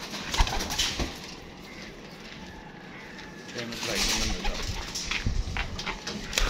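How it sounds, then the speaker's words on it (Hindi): Pigeons in a loft coo softly and intermittently, with faint wing flutters, beneath someone talking close by throughout. "ये गया दोस्तों कबूतर, चेक करें माशाल्लाह, बहुत अच्छा कबूतर है यार"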